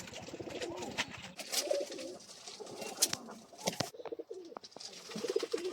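Wild pigeons coo repeatedly at close range, soft rolling calls overlapping one another with a few light rustles and clicks in between.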